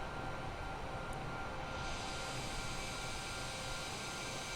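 A GE NX engine on a Boeing 787-8 in Flight Simulator 2020 gives a faint, steady broadband roar that brightens slightly after the opening seconds, with no voices.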